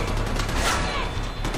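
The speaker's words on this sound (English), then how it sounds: "You're both shooting at the same guy and you didn't get a single hit" Allied gunfire in the jungle shooter Far Cry 4: a dense, continuous spatter of shots, moderately loud and unbroken over a brief stretch, with no clear gaps between bursts.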